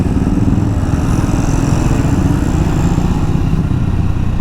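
A Triumph Speed 400 motorcycle engine idles close by with a steady, throbbing low rumble that holds evenly throughout, with no voices.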